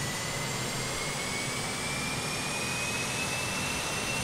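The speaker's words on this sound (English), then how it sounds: "Come on, engine number 3 is up." Jet engine of an Avro airliner running in a flight simulator game, a steady loud roar with a thin whine slowly rising in pitch throughout.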